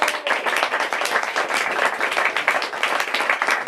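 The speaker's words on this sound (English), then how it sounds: "Let's give all these folks a round of applause" Audience applause for a panel of guests at a San Francisco Muni event, a sustained, lively crowd of clapping hands with steady dense rhythm and no voices over it.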